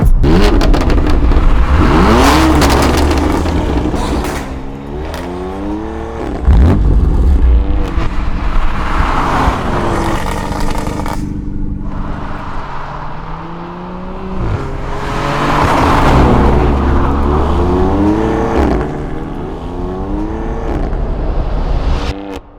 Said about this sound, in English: That right there is a BMW M140i, a car I've been looking forward to driving for the longest time.